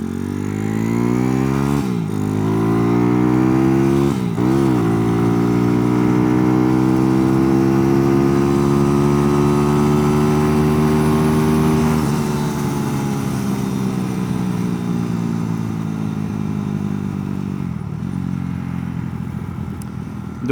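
Tuned Honda 140 motorcycle accelerating hard, its engine note climbing steadily through several gear shifts with brief dips between, then holding a loud sustained drone; close and continuous, with no talking.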